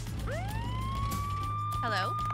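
An ambulance siren in a toy play scene with miniature dolls, rising in smooth pitch sweeps into a sustained wail, then a rapid warbling burst, all at moderate loudness over a steady low hum.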